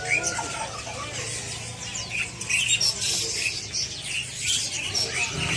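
Female green leafbird (cucak ijo) at a busy bird market, with dense overlapping squawks and chirps from many caged birds filling the scene over low steady background hum, no single call standing clearly apart.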